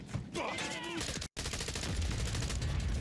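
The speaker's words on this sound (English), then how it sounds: "That was so many shots to his head." Call of Duty Modern Warfare 3 multiplayer gunfire: continuous rapid shots, close and loud, with a brief dropout midway and a faint voice underneath at the start.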